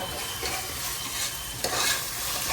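Onions with ready-made ginger garlic paste sizzle briskly in a pan while being stirred, a dense close frying hiss with bursts of scraping.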